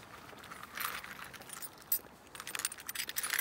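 Keys jangling faintly near a car park, a few short metallic rattles and clinks, growing busier toward the end.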